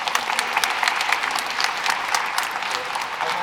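A gathered audience at a Quebec church sending-off event applauds, many hands clapping in a lively, fairly close patter with individual claps popping out, steady throughout the clip.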